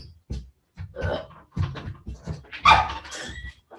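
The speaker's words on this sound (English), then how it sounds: "there's a dog that wants in" A dog whining and barking outside, wanting to be let in, in short irregular bursts of yips and whimpers at moderate distance, with no talk over it.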